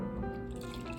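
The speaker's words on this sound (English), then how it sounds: "So I'm just gonna fill it with water." Water runs steadily into a cup, a continuous splashing, gurgling pour heard close up with no voices.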